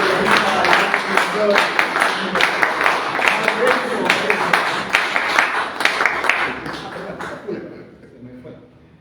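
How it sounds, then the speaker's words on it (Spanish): An audience applauds a speaker at a labor-themed gathering, with brisk, rhythmic clapping filling the room for several seconds before fading out. "Un gran aplauso para la voz de"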